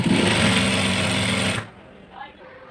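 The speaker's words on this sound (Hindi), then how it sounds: "तो हम एक बार इस पर दोबारा सिलाई चलाएंगे।" A sewing machine runs a fast, continuous double line of stitching on a palazzo for about a second and a half, loud and close, then stops abruptly, leaving quiet room tone and a brief faint sound.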